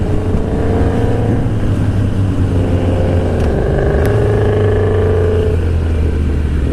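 A 2016 Suzuki Bandit motorcycle accelerating onto an interstate, its engine note rising steadily through the gears with strong wind rush, loud and continuous from the rider's position.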